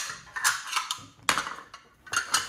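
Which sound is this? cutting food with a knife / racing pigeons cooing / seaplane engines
cutting food with a knife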